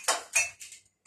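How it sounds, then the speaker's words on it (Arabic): Dishes and cutlery clink and clatter as they are cleared from a table, three or four close, bright knocks in quick succession with short pauses, no talking. "هشيل بقى المواعين كلها"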